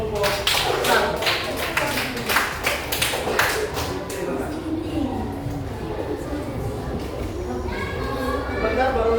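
A classroom group claps after a student group's presentation, a dense burst of many hands that starts loud and thins out, with children's voices and chatter carrying on underneath and after it.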